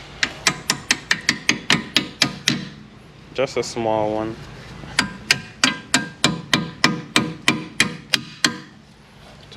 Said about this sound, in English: So now we need a hammer.